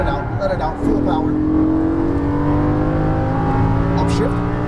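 A Lamborghini Gallardo LP550-2 accelerates at full power on a racing track, its engine roaring loud and continuous with a rising pitch, heard close from inside the car under a driving instructor's voice.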